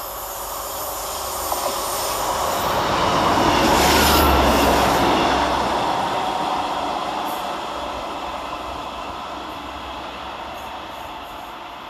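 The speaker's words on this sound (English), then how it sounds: "Next passing through 6 minutes late for transport for Wells is 150-258, working 1I08 from Llandudno Junction to Birmingham International." A Class 150 diesel passenger train, Transport for Wales unit 150-258, passes through Smethwick Galton Bridge station, a rumbling roar swelling to a loud peak mid-pass and fading as it rolls away, with insects chirping faintly throughout.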